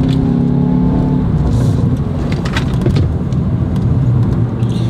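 A Hyundai i20N drives along with its engine droning loudly and continuously, rising briefly near the start, heard close up from the car over steady road noise.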